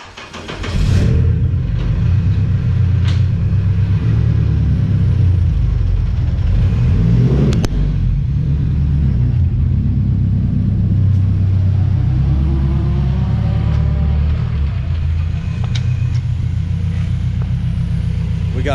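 A Honda K24-powered car runs on a dyno, its engine droning loudly and steadily with a heavy low rumble throughout, near and continuous, with no voices.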